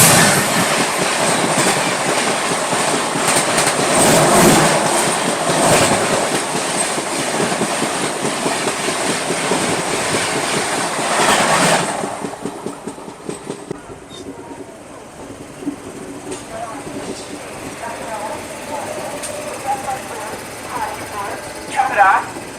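Swatantrata Senani Express passing on the adjacent line, heard from aboard a moving train: a loud, sustained roar of wheels and rushing carriages with rhythmic clatter, cutting off abruptly partway through and leaving quieter rolling rail noise.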